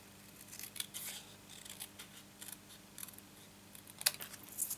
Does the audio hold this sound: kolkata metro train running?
no